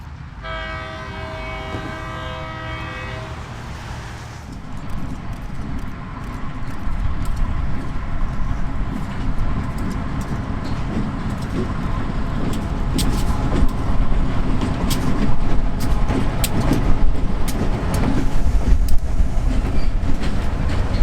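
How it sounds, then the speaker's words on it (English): A freight train sounds its horn with a sustained blast, then rolls past near Eagle Lake, Florida, its cars grinding and clattering loudly and steadily over the rails at close range. "one last shot as the train approached the transloading facility"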